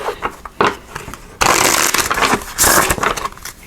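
Oracle cards being shuffled by hand at close range, a burst of soft flutters and riffles building into a dense, loud run of card shuffling with brief pauses between.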